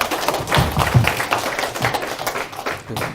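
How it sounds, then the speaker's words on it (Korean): Congregation applauding a pastor at a church seminar, a scattered, moderately loud clapping that rises and thins over a few seconds with no talk over it. "조 목사님 한번 힘내라고 박수 한번 치고"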